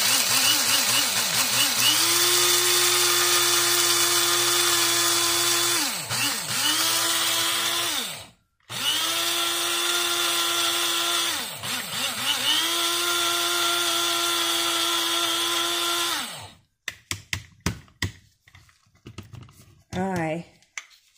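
An electric grinder whirs loudly and steadily as it grinds oatmeal into powder for soap, running in long continuous stretches with brief pauses and pitch dips, then stopping and leaving a few faint clicks.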